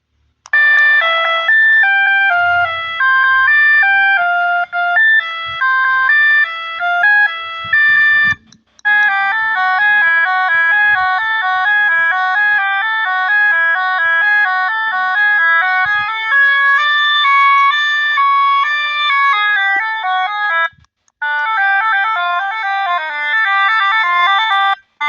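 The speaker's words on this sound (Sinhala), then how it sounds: "මේ හෝන් එකේ සවුන්ඩ් තුනක් තියෙනවා." A vehicle siren horn with three tone settings plays loud electronic melodic tones for about 25 seconds, in rapid warbling and stepping patterns that switch abruptly between sequences with brief gaps.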